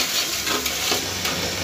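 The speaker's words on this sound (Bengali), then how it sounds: "এখন আমি এখানে দিয়ে দেবো আমার ডাল, গরম মশলা সব একসাথে দিয়ে দেবো। এটাকে আমি 10 থেকে 15 মিনিট কষাই দেবো ভালো করে।" Lentils and garam masala sautéing in hot oil for beef bhuna khichuri crackle in a dense, close sizzle, with brief scraping bursts from stirring.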